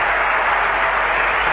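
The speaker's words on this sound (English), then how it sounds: "The applause." Sustained crowd applause at a Wimbledon 2018 women's tennis match between Tomova and Serena Williams, a steady, dense wash of clapping filling the whole moment without pause.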